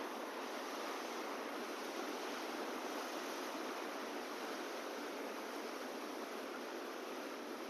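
The Ganga flowing at the Bulandshahr riverfront, a steady, even rush of moving water that holds constant and unbroken, with no voices over it.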